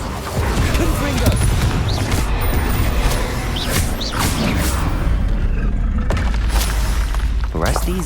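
Confringo blasting spells cast in the video game Hogwarts Legacy, a series of sharp booming bursts and crackling impacts among clattering combat noise, loud and close.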